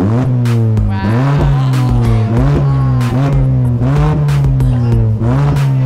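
A car with a new aftermarket exhaust revs repeatedly and loudly up close, its engine note rising and falling in a steady rhythm of blips with no talking.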